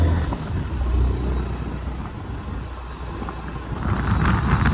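Wind blows outdoors and buffets the microphone with a continuous low rumble and broadband roar that swells slightly toward the end, with no voices.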